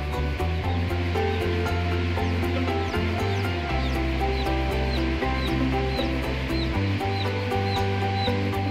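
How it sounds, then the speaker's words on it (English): Newly hatched chicks chirp steadily inside a hatchery, with repeated short peeping calls over a constant loud machine hum from the incubators and ventilation. "Watch as the chicks hatch."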